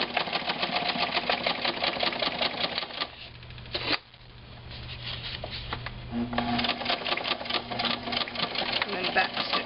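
A sewing machine stitches the binding of a junk journal in loud, fast, rapid-fire runs that briefly slow and pause midway before speeding up again, with a person talking intermittently over it.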